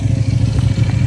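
A motorcycle engine idles close by, a steady, throbbing mid-low chug with an even pulsing rhythm and a faint clatter on top, running alone without talk.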